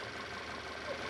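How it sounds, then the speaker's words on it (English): A 2014 Volkswagen Tiguan 2.0 TSI engine running during a cooling system bleed, with a steady, fairly quiet broadband mechanical hum and slight rise near the end, heard alone without talk. "so we are going to rev it up"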